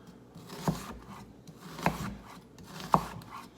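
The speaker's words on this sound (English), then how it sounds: "slice the onion" Three sharp, evenly spaced knife strokes through an onion hit a cutting board, each a crisp crunch followed by quiet.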